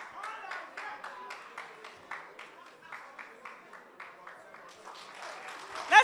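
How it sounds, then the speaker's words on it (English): An audience at a literacy challenge grand finale in Ghana claps for a prize winner, a steady moderate round of applause close by, tapering slightly before a brief loud burst at the end. "Let's give him a round of applause."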